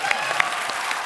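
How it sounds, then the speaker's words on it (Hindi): Studio audience at a Hindi comedy talk show breaking into applause, a dense, loud wash of many hands clapping together with a few sharper claps standing out, brief and steady. "तालियां"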